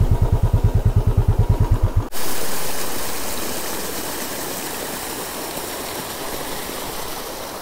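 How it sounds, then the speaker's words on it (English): Water rushing in a jungle stream along the road to Manchi, a loud, broad, steady wash. A rhythmic motorcycle engine putters for the first two seconds, then cuts off. "More streams here."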